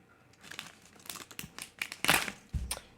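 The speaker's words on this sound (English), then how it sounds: "We'll remove the butcher paper." Butcher paper being peeled away and crinkled after pressing infusible ink on a mug, a run of close, crisp rustles and crackles building to a louder tearing crunch near the end.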